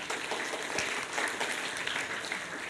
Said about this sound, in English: Please give round of applause to Sam.